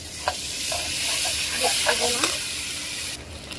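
Ginger-garlic paste frying with onions in a pan for a radish-greens and shrimp dish, a steady sizzle with stirring scrapes and clinks throughout, close and moderately loud, with no talk.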